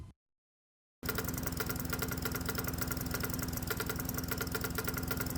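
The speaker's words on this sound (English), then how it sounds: "it took a while to clear the carburetor of the vegetable oil and to get the engine running again on gasoline" A hot bulb semi-diesel lawnmower engine runs steadily on gasoline after a second of silence, its close, loud idle thumping in a rapid, even rhythm with a rattling knock throughout.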